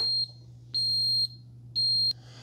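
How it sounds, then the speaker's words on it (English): Three short, high-pitched electronic beeps at an even pace from a Ninja DualBrew hot and iced coffee maker signaling brewing is finished, over a low steady hum. "And then it's gonna beep at us to let us know that it's done."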